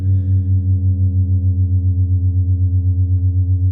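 Steady low hard-panned synthesizer tones from a Digitakt hold a sustained ambient drone with a gentle pulsing wobble, loud and unbroken, with no voices.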